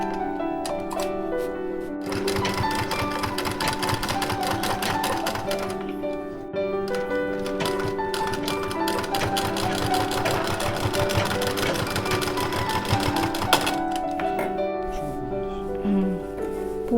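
A sewing machine stitches white lace onto a small ghagra skirt, its needle clattering in a fast, steady rhythm that runs almost continuously, with brief pauses and a few soft handling noises.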